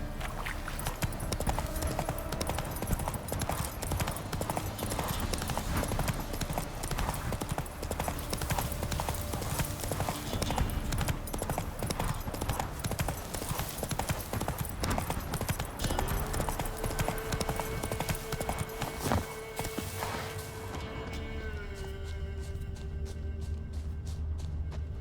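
A horse's hooves pound in a fast gallop in The Witcher 3, clip-clopping steadily and loudly across the whole stretch beneath a busy layer of music and game ambience.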